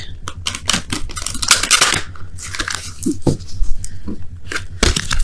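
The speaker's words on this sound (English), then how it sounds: "let me go ahead and quickly shuffle these for your romance angels of the week." Tarot cards being shuffled in quick, papery riffles and snaps, close up and fairly loud, with a few brief murmurs of voice mixed in.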